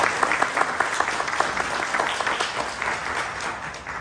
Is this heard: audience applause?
yes